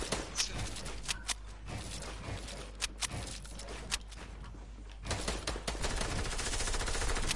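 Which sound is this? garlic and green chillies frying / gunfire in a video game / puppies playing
gunfire in a video game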